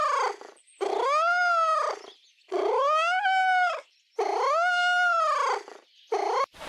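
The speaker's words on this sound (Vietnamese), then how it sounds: "Cat." A domestic cat meows loudly and close up, four long drawn-out calls with a shorter fifth cut off at the end, each with a rising then falling wail, separated by brief silences.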